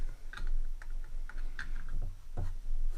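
A few small plastic clicks and snaps, quiet and close, scattered over a few seconds as the tabs of a flexible LED work light are pressed into place.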